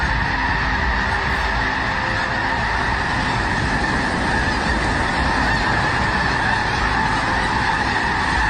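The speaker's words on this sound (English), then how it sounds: "Thousands of snow geese take to the skies," Thousands of snow geese honk in flight as a massive flock. The calls form a loud, unbroken wall of sound from start to finish.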